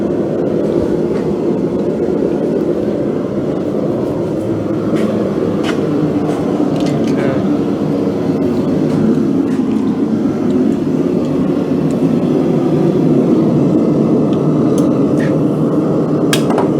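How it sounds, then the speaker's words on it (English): A bandsaw runs steadily throughout in a workshop where an anvil hardy tool is being made, with a constant loud motor and blade drone and a few sharp ticks and clicks on top. "Let's get the bandsaw."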